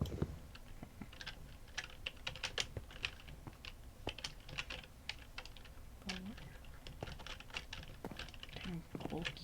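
Rapid, uneven clatter of keys on a computer keyboard, typed continuously at close range with faint background noise.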